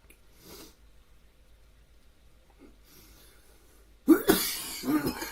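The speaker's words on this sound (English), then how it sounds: "It makes me cough a lot" After quiet exhalations, a person breaks into a few loud, close coughs near the end.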